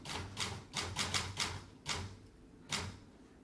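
Typewriter keys clatter in quick uneven bursts as a novel gets typed during a stage play, the strikes close and crisp with short pauses between runs and no talking.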